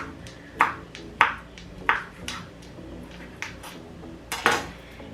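A knife cuts through rolled basil leaves into ribbons on a board, making several sharp, evenly spaced taps and clicks up close, with a quick double tap near the end.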